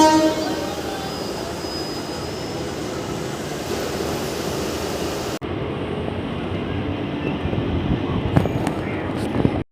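Summer special passenger train from Kolkata to Purulia running near Mecheda, a loud steady rumble of wheels and carriage noise continuing throughout, with a brief sharp break midway and a faint horn-like tone early on.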